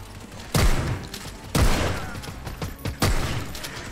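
Pump-action shotgun fired in the VR shooter Hard Bullet, three loud close booms about a second apart, each trailing off, with faint mechanical clicks between them.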